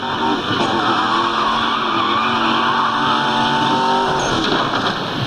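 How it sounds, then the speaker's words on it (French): A Mercedes-Benz engine in the racing game Need for Speed Most Wanted, loud and continuous with a steady revving drone and tire squeal, sustained throughout without talk. "Là c'est la Mercedes-Benz. C'est bien le bruit."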